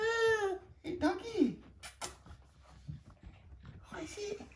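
A new puppy gives high whining, whimpering yelps in short bursts, close by, while a baby and adults make noises around it.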